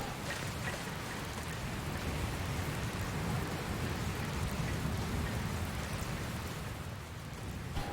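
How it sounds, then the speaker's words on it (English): Steady heavy rain with low rumbling thunder from a storm rolling in, in the video game Dragon Quest Builders 2; a dense, continuous wash of rainfall at constant loudness throughout, with no talk. "Looks like another storm rolling in."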